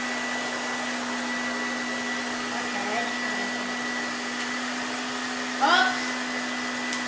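A hair dryer runs in a home with a constant steady whir and a strong hum, holding level throughout, while a voice briefly rises over it near the end.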